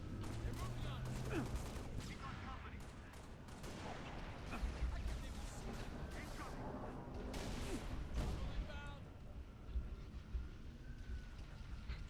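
Two or three Phantom dropships fire weapons in the Halo video game, producing dense, continuous bursts of gunfire and rattling impacts that run steadily throughout at a moderate distance, with faint talk in the background.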